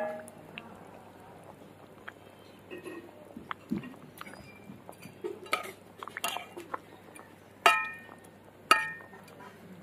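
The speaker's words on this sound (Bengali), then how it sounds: "ভেজে রাখা সব মাছ দিয়ে দেবো।" Fried Bhola fish pieces go into a pot of boiled potatoes for a fish kalia, heard as scattered clinks and clatters of utensil on pot with two sharper knocks near the end, fairly quiet overall.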